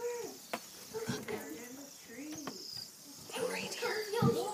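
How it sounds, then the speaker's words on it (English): Birds cooing and calling outdoors, fairly close, with children's voices talking over them throughout. "So we can hear them chirping"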